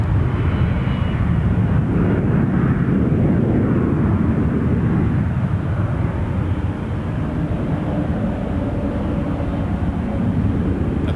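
An Airsprint Cessna Citation business jet at Toronto Pearson Airport, producing a loud, sustained jet roar with a rising and falling whine as it passes nearby.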